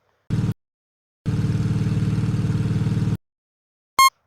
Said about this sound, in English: I found this engine sound and decided to use it.